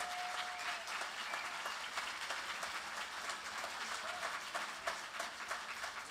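Audience at a bluegrass festival clapping steadily for the whole stretch, a dense, even wash of many hands at moderate distance without a break.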